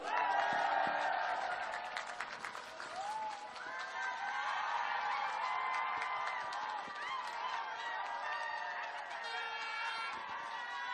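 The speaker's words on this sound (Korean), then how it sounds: "우리 박수 한번 주세요." Applause and cheering from a crowd at an outdoor campaign rally in Chungcheong, given for a sign language interpreter; a steady, dense wash of clapping and voices that carries on for the whole stretch.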